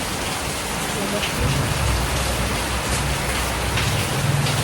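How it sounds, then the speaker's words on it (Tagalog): Steady rain pours down in a dense, continuous hiss with a low rumbling undertone, constant and close throughout, no voices heard. "Naulan."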